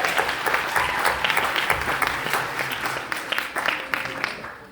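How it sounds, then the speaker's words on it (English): An audience at an evening civic event with the Santa Rosa mayor breaks into lively applause, a dense patter of clapping that stays fairly even and slowly tapers off. "let's do another round of applause"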